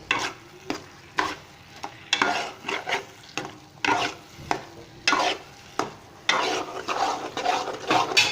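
A spoon stirs gram flour halwa with sugar in a pan, making rhythmic scraping strokes about every half second over a low sizzle, close and loud with no voices.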